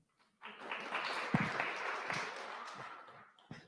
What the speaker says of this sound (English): Applause for Anisa, please.